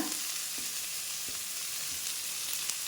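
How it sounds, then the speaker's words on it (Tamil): Large chopped onion and green chilies frying in hot oil over spluttered mustard seeds for lemon rice, a dense, even hiss with a few soft stirring knocks, close up and without speech. "கடுகு பொறிஞ்சனையும் பெரிய வெங்காயம் ஒன்று பச்சை மிளகாவையும் போட்டுக்கோங்க"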